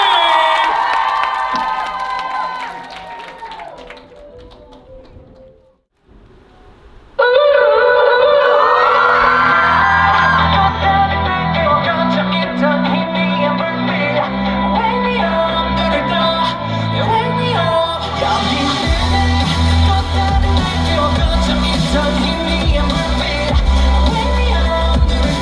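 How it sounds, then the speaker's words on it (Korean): Concert crowd at a K-pop singer's solo show cheering, whooping and shouting loudly, with a brief dip before the noise surges back and holds steady under music for the rest of the stretch. "여러분 큰 박수로 시작했어요"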